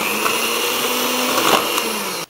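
A kitchen blender whirs steadily at high speed, mixing flour with room-temperature unsalted butter for a honey cake, loud and close, then cuts off abruptly at the end.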